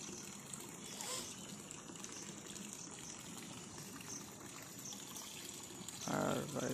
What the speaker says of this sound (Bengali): জল এসে গিয়েছে এখানে